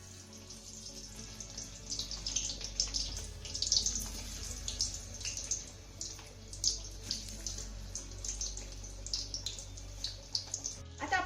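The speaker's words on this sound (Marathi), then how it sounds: "आता यामध्ये आपल्याला थोड्या थोड्या कैरीच्या फोडी सोडून तळून घ्यायच्या आहेत" Raw green mango pieces sizzling in hot oil in a kadai, a steady crackling hiss with bursts of popping bubbles, close and fairly quiet, continuing without speech.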